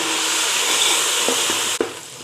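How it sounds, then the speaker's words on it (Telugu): Coriander and mint leaves fry with a steady, loud sizzle in a hot pan, and a few spoon scrapes and knocks come near the end as the mixture is stirred. "సో నెక్స్ట్ కొత్తిమీర వేసుకుందాము పుదీనా మంచిగా వేగిపోయింది ఇక వేసుకొని మంచిగా కలిపేసుకుందాం"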